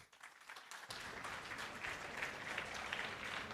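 Faint applause from an audience welcoming a speaker to an education session, starting abruptly and settling into a dense, even patter of many hands clapping at a distance.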